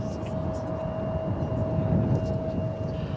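Boeing 737-800 airliner passing at Dallas/Fort Worth airport, a steady broad engine roar with a sustained whine held evenly throughout, moderately loud and distant, with no voices over it.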